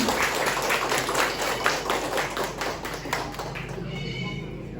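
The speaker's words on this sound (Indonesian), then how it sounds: "Boleh tepuk tangan dulu." An audience applauds at a parenting seminar, dense and sustained clapping from many hands that carries on steadily before thinning out near the end.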